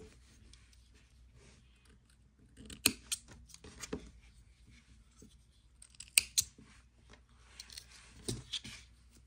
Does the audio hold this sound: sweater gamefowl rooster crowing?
no